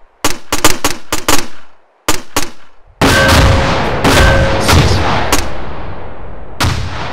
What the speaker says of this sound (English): Now go ahead and set your weapon for what range you think it needs to be, and then fire at will.